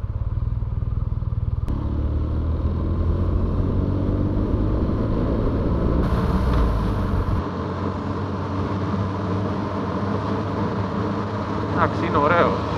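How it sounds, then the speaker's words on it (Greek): A 2021 BMW R nineT Scrambler boxer engine pulls while riding, a loud rumbling drone that shifts pitch as the revs change, with wind rush and a rider's voice over it. "Ωραίο μοτέρ, είναι ωραία η απόδοση, ενώ έχει ωραίο γκάζ, μαλακό, ωραία απόκριση"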